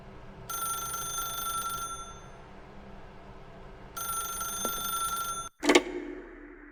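In The Stanley Parable, a telephone rings in two long electronic bursts separated by a pause, followed by a brief clatter, with no voices.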